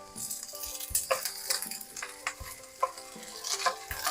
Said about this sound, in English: letting it saute so it'll soften